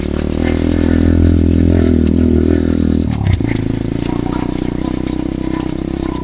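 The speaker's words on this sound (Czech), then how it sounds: "A motorka už je naštěstí zahřátá" A pitbike motorcycle engine runs steadily and loud, warmed up, with a brief clatter or shift in tone around the middle before settling back to a steady drone on a training track among spruce trees.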